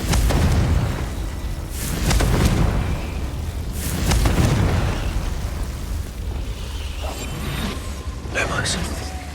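Repeated magic explosion blasts from the Confringo spell in Hogwarts Legacy, several heavy booming bursts spaced a couple of seconds apart, each decaying into rumble, with a voice speaking in between.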